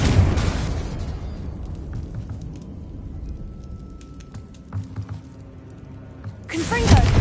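A Confringo blast in Hogwarts Legacy erupts in a loud burst at the start and another near the end, with a quieter rumbling, crackling stretch between and faint voice-like sounds underneath.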